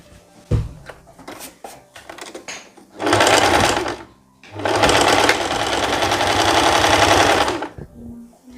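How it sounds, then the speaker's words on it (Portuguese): A sewing machine stitches the lining of a lace dress bodice in two loud, close runs of rapid whirring, the longer one lasting several seconds, with handling clicks before them. "estou passando na máquina agora essa parte do corpinho do forro da blusa"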